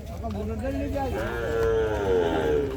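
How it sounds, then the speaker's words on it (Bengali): A cow moos once at the Nayanpur cattle market in Comilla, Bangladesh, a long drawn-out low call rising and wavering, fairly close, with faint background chatter. "এটা হচ্ছে একটা পুনমরা গরু"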